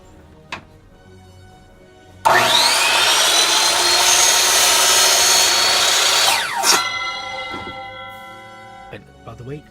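An electric saw cuts into a 3D printed lightsaber part with a loud, sustained whine lasting about four seconds, preceded by a brief click and followed by winding down, with faint tapping and a voice before and after.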